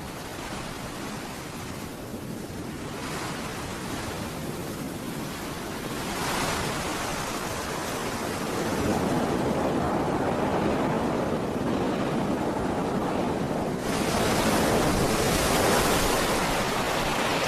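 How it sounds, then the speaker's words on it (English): A hurricane sweeps across the Everglades, with a broad roar of wind and surf that swells and ebbs in long surges and grows stronger toward the end. "It's when the hurricanes blow."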